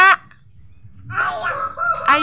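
Chickens make a short call, and then a few bird sounds follow over a quiet background close by. The sounds come in brief bursts with gaps between them.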